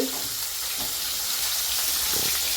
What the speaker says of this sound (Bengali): মাছ ফুটবে, যার জন্য যে মাছ ভাজা হচ্ছে